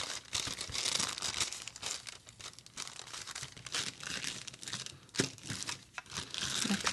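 A discarded cardboard cracker box being folded, its gusset pushed in by hand, giving close, irregular crinkling, crackling and creasing bursts with a sharper snap midway and short pauses, and no voices.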